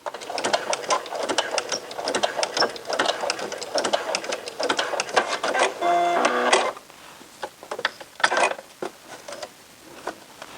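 Sewing machine stitching the neck binding onto a T-shirt, a fast rattling run of stitches with a short, steadier back-stitch burst near the middle, then scattered clicks and handling noises close by.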